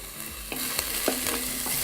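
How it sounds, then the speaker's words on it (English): A spoon stirs corn chowder in a pot, giving soft scraping and clinking strokes over a steady low sizzle-like hiss, close up with no voices. "Just needs a little stir."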